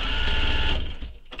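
A sewing machine stitches across the bottom of a handmade crossbody bag in a quick, steady mechanical whir for under a second, then slows and stops with a few small clicks.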